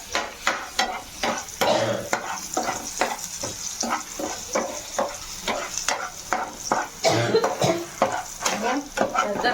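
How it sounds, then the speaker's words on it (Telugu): Potatoes frying with a light sprinkling of turmeric in a pan, stirred with a utensil in a steady run of scraping strokes over a constant sizzle, close and fairly loud, with a brief cough. "ఇది కలుపుతున్నా ఫ్రెండ్స్."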